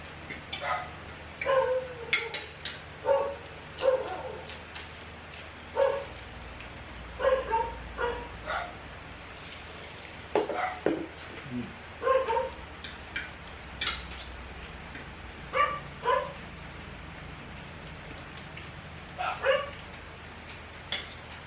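A dog barks repeatedly in short clusters of yips and bow-wows at moderate distance, with brief whimpers between bursts over a quiet outdoor background.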